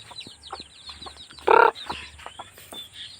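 Chickens around a bamboo chicken house clucking in short repeated calls, with one louder, sharper squawk near the middle standing out from the softer chatter.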